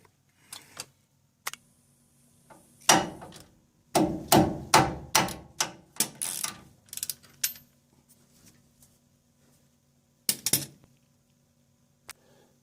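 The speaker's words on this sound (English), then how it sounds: "now I'll undo these two bolts down there behind the caliper" Sharp metallic clicks and knocks from a ratchet and wrench undoing bolts behind the brake caliper of a 1995 Holden Rodeo 2x4, a close burst of quick rhythmic ratcheting in the middle with scattered taps before and after, no talking.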